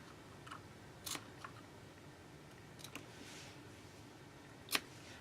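Scissors trimming ribbon tails for a handmade Christmas card, a few soft, close snips spaced apart, the last one sharper, over quiet room background.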